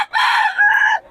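A rooster for sale at a roadside poultry seller in Bocaue crows once, close and loud, a single sustained bright call lasting about a second.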